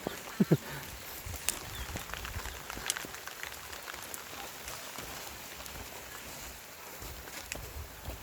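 Steady rain patters across a surface, a soft continuous hiss with a few brief louder knocks near the start.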